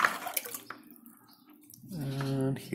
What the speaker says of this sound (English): so let's water.